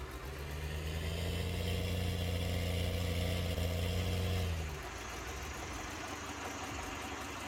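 A tractor engine in the Farming Simulator 19 game runs steadily with a loud, low idling drone for about four and a half seconds, then drops to a quieter, lighter running tone.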